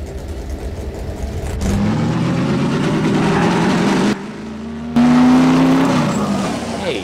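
A racing car engine revs hard for a stop-motion film, rising in pitch through several loud surges with a brief drop-out and a squeal-like tone, close and continuous with no voices.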